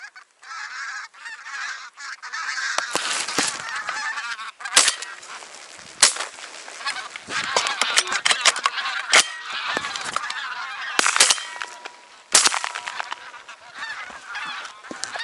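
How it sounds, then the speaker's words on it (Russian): A large flock of geese honks continuously while flying over an autumn hunting ground in Yakutia, with dense overlapping calls at moderate distance and a few sharp gunshots cracking through. "Еще стая гусей летят."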